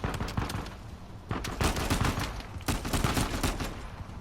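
Rapid bursts of automatic gunfire crackle through a firefight in the video game Uncharted 4, coming in three dense volleys separated by brief gaps, fairly loud and unaccompanied by speech.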